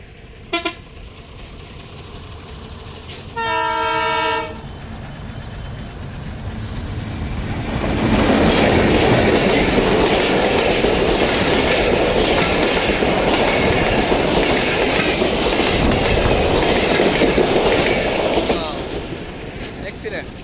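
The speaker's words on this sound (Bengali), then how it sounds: "এই যে ট্রেন আসতেছে" A train nears a level crossing and rushes past close by, opening with one long horn blast and building into a loud, sustained roar and rattle of wagons that fades at the end.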